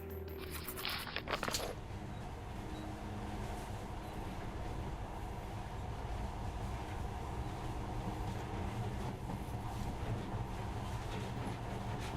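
A video game monorail train rumbles steadily along with a low, continuous roar and faint rattling, after a brief clatter at the start.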